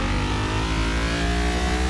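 A 400 hp naturally aspirated car engine accelerating in the video game Car Mechanic Simulator 2021, a loud continuous rising engine roar close up, alone without talk.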